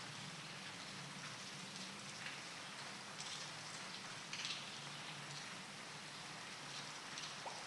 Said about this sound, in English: is there anything we can do about the rain?